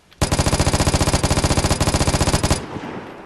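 A light machine gun in the video game Vigor fires one sustained automatic burst of about two and a half seconds, loud and close, with rapid evenly spaced shots that stop abruptly and leave a short fading tail.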